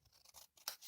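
Scissors snipping through card for a kerchief card kit, a quick faint series of soft blade cuts and rustles, close and alone.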